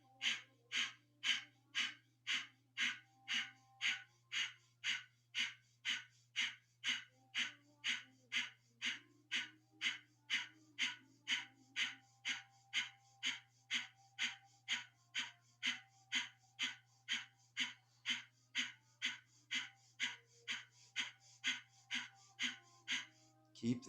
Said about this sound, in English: and then begin breath of fire.